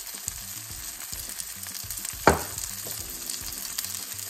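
Vegetables sizzle steadily in olive oil in a pan for a shrimp and grits dish, a close continuous frying hiss with stirring sounds and one brief louder crackle partway through.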